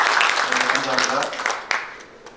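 An audience applauds at a book launch ceremony for an explorer's travel book, producing a dense wash of clapping that fades gradually while someone speaks over it.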